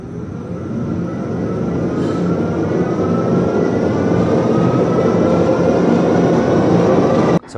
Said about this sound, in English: All right, dyno run.